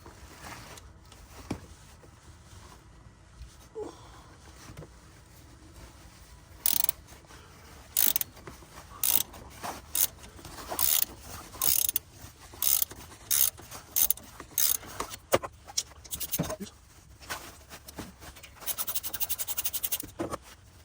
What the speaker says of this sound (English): we're just going to take off this belt right here, this bolt.